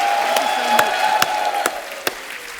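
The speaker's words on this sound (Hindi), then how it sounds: "जोरदार तालियां एक बार कमल सर के लिए" Studio audience applauding Kamal Haasan at a comedy talk show taping, a steady wash of clapping with a few sharper claps standing out, loud and sustained throughout.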